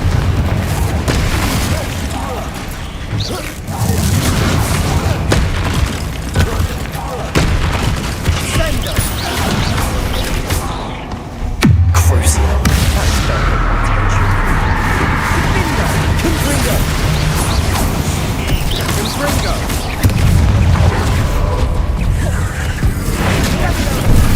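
Confringo spells in the video game Hogwarts Legacy set off repeated loud booming explosions with crashing bursts throughout, under spoken spell incantations.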